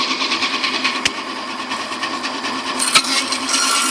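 Walker Turner Co. bandsaw with an underpowered 3-horsepower motor running in a shop, a steady mechanical whir with a sharp click near the start and another near the end, no voices.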